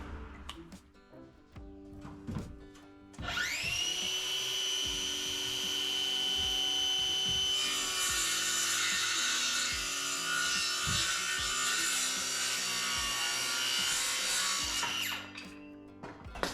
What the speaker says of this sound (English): now I'm just gonna go ahead and trim this end off